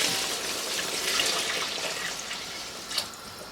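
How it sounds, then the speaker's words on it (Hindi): Water pours into a pot of washed rice in a home kitchen, making a soft steady splashing trickle with a slight gurgle near the end, close and fairly quiet, with no talking. "चावल डाल लेने के बाद इसमें अब आप ऐड करेंगे जो कि पानी है।"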